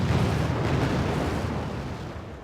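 Weapons fire in Wargame: AirLand Battle makes a continuous low, rumbling roar of artillery and explosions. It is thick and steady, fading slightly toward the end.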